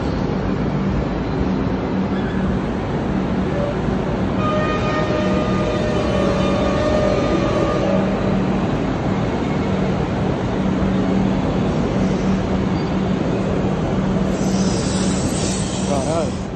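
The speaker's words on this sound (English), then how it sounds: "This is our train, guys." A train sits at a railway station platform, rumbling in a constant low drone throughout, with a faint tonal whine partway through and a brief high hiss near the end, while people chat quietly nearby.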